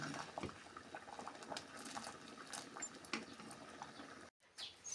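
A pot of sambar with peas, cowpeas and carrot simmers steadily, giving a continuous soft bubbling and hiss with faint scattered pops, broken by a brief silence near the end.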